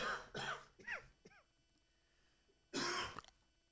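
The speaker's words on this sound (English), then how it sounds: "I'm coughing." A couple of quick harsh coughs, then a short throat-clearing rasp, followed by a pause and one more loud cough, close to the listener.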